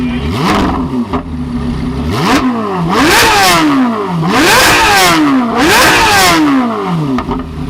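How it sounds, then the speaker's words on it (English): Flat-plane-crank V8 of a Chevrolet C8 Corvette Z06, naturally aspirated and rated at 670 horsepower, revving hard in a loud, close series of rising and falling sweeps, about five sharp climbs with quick drops between them. "this is a flat plane crank V8 engine cranking out 670 horsepower naturally aspirated"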